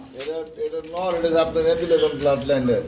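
Pigeons of the Mondi Black breed coo in soft, throaty repeated phrases, heard close and mixed under a voice talking over them.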